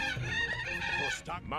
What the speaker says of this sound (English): These phoenixes have the least impressive sounds I've ever heard.